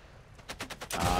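Gunfire in the video game Unwanted Guests: a quick series of about five sharp bursts, then a louder, sustained volley of shots close up, with no talking.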